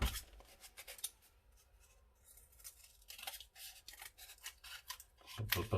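Scissors snipping a mask shape out of paper or card, a soft close run of short crisp cuts with quiet pauses between strokes, heaviest near the end.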